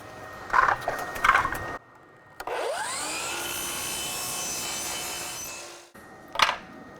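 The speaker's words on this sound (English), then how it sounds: "This is going to be another piece cut upright in position like a baseboard. 45 degrees." A saw cuts a 45-degree miter through a wooden baseboard piece standing upright: a short sharp whine rises into a steady loud cut lasting about three seconds, then spins down, with a few clunks of handling before and after.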